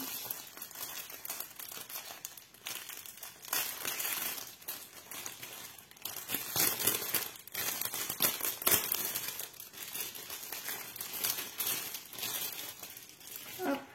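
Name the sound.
opening a diamond painting pouch, crinkling packaging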